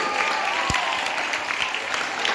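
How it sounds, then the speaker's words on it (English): Students clap together in a classroom during a motivation and orientation session for IIT/NEET CBSE aspirants, a steady, fairly close burst of many hands that carries on for a couple of seconds with no voices over it. "You got 2 claps for you."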